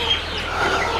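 Chickens cluck and murmur steadily on a desi poultry farm, a close, busy flock sound with no talking.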